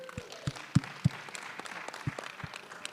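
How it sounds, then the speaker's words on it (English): A few scattered claps, one of them made with a microphone in hand, land as sharp isolated hits over a low background murmur of voices. "Clapping with a microphone in my hand."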